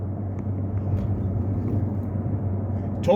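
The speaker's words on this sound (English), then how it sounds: "The truck is towing really nice, and this is a pretty hilly area that we're driving through" Steady, loud low engine drone of a 2022 Toyota Tacoma pickup towing 6300 lb up hilly, curving roads, heard from inside the cab with constant road rumble and no talk.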